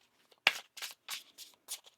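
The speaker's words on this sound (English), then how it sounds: "One more shuffle here." Tarot cards being shuffled by hand in a series of six quick riffling bursts, close and crisp, each separated by short pauses, with no talk over them.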